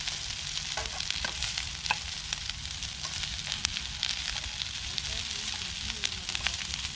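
Vorarlberger Riebel frying outdoors in a pan, a steady close sizzle with scattered crackles and pops continuing throughout.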